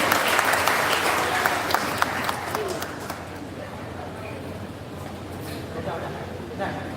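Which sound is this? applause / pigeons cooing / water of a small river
applause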